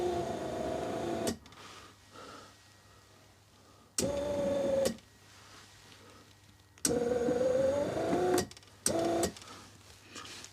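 The sticky electric window mechanism of a Rolls-Royce Silver Spirit III runs in several bursts, each a steady whining motor drone lasting one to two seconds, separated by quiet pauses, heard up close with no speech.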